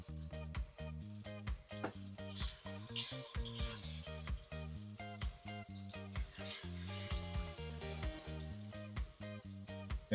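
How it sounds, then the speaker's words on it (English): Pork chops sizzle in a few tablespoons of olive oil in a pan over medium-high heat, a soft continuous hiss beneath louder rhythmic background music. "And then we're going to add our pork chops. Listen to that sizzle."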